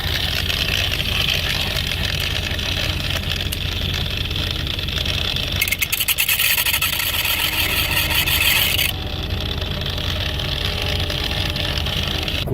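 An angle grinder spins at high RPM during a roadside repair, with a loud, steady mechanical whine and a harsher grinding burst in the middle. No one speaks.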